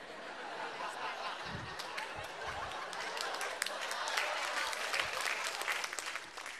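An audience at a stand-up comedy show claps in a sustained, crackling burst that swells toward the end, mixed with scattered laughter and chuckles, fairly close and lively.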